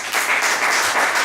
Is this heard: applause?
yes